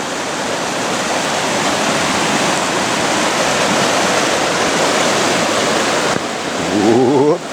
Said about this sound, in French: Allez, traversée de cette petite rivière.